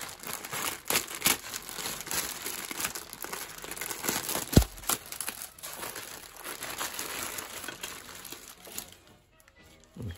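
Sealed plastic packaging on a Vickers-Armstrongs British Light Tank Mark VI B model kit is cut and pulled open, giving continuous close crinkling and rustling with a sharp snap midway before it fades to near quiet.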